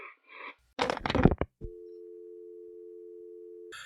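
After a phone call is hung up, a steady telephone tone hums alone for about two seconds, following a brief burst of sound and a short clatter.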